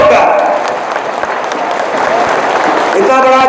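A standing crowd at a political rally in a market hall claps loudly to welcome a speaker, dense steady applause filling the whole stretch, with voices and shouting mixed in and a brief tonal sound near the end.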